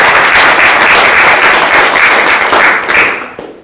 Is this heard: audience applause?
yes